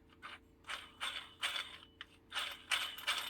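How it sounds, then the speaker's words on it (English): A worn bicycle freehub bearing turning roughly on a bike with freehub trouble: a faint, close ratcheting rasp that pulses in repeated bursts about every half second, gritty and uneven. "its bearing sounds knackered"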